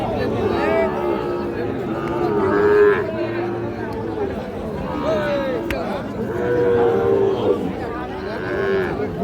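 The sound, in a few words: Sahiwal bull calves mooing at cattle market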